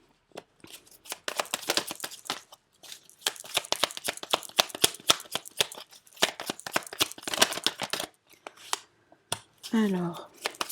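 Tarot cards shuffled by hand for a reading, with a rapid run of crisp riffling flicks and slaps that stops briefly and then resumes, close and clear, with a short vocal sound near the end.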